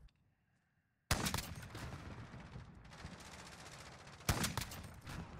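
Rapid bursts of explosive-round gunfire from a Rytec AMR rifle in the video game Modern Warfare, loud and close, starting abruptly after a quiet stretch with a second sharp volley near the end.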